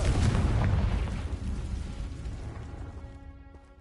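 A Confringo spell explosion in Hogwarts Legacy inside a cave, a loud booming burst at the start that rumbles and slowly decays over several seconds into a fading tail.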